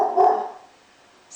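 A dog barks once, sharp and fairly close, then the sound fades into a quiet room with a faint click at the end.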